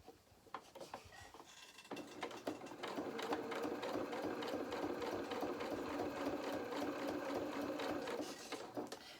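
Sewing machine stitching felt fabric for a doll's duffle coat: a few short mechanical clicks, then a steady rapid whirring run of stitches that stops near the end, close and fairly quiet, with no talking.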